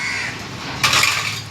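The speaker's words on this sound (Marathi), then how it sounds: "अशी रोज येतात आमच्याकडे कावळे" A crow caws once, loud and close, a short harsh call cutting in after a quieter stretch of background hiss.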